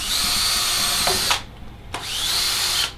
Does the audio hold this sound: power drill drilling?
yes